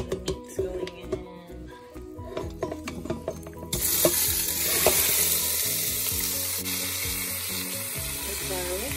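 Meat goes into a hot pan with onions, setting off a loud, steady sizzle of frying after a few clinks and stirring scrapes in a home kitchen.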